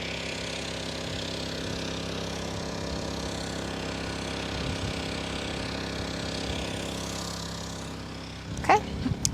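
Generator engine running at an off-grid free campsite in Oregon, a steady mid-pitched droning hum at moderate distance that holds constant throughout, with a few brief knocks near the end.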